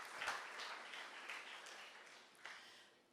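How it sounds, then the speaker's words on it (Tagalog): Faint, distant applause from a church congregation, a soft patter of clapping fading out over a few seconds. "sige, tuloy po natin yung palakpak sa Lord"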